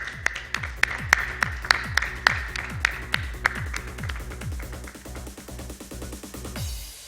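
Applause at a corporate panel discussion on digital transformation, heard as a run of crisp, evenly spaced claps with a thumping low resonance, close to the microphone and tapering into softer, scattered clapping.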